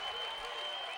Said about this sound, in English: The crowd rising to their feet in applause already.